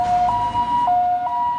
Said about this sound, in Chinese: 救护车及时赶到